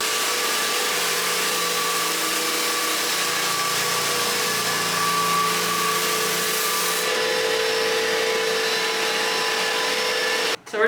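A floor sander with 100-grit paper whirs continuously over a 110-year-old wooden floor, a loud, even motor hum with gritty grinding, then abruptly stops near the end.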